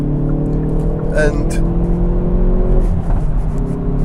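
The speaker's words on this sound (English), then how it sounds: "I have to pause when I'm driving this car just to listen to the engine pop and crackle." Car engine under way with steady droning tones, broken by a few sharp pops and crackles on the overrun near the middle, heard from inside while someone talks over it.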